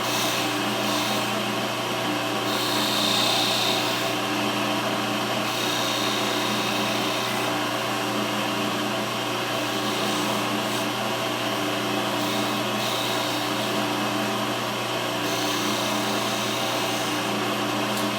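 A wood lathe turns wine bottle stoppers with a spindle gouge, giving a steady, unbroken whir and hum that holds at an even loudness throughout, with no voices.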